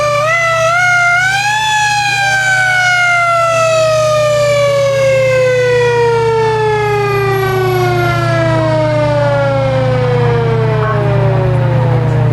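A fire truck siren at a Christmas parade in Branford wails loudly and close, rising then slowly falling in pitch over a steady low engine hum, with no talking.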